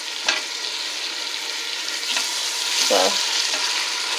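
Meat frying in a pan for spaghetti, a steady soft sizzle with occasional scraping stirs, close and moderately loud, with a brief spoken word partway through.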